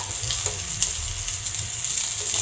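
Ginger sautéing in a pan for chicken adobo, a steady close sizzle and crackle of hot oil with faint stirring ticks, no talking.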